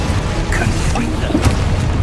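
A Confringo spell blast from Hogwarts Legacy goes off in a dense, booming burst amid game noise, with a muffled low rumble and a brief crackling pop partway through.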